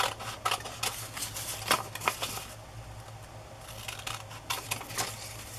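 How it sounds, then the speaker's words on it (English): Scissors snipping around a stamped paper journal definition, a quick series of crisp cuts in bursts with short pauses between, close and fairly clear. "I'll just take this journal definition and cut it pretty close"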